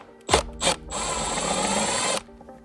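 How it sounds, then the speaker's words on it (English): A small impact driver fitted with a right-angle adapter gives two short bursts, then a steady buzzing rattle of hammering for over a second while backing out a T25 Torx screw from car trim during a dash cam install; close and fairly loud. "I'm using a right angle adapter on my little impact here"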